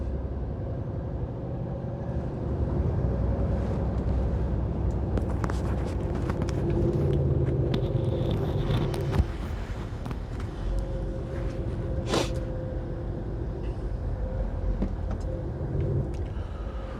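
A van creeps through a road tunnel in slow traffic behind a small trailer, with a steady low engine and road rumble swelling in the enclosed space and a few brief higher clatters over it.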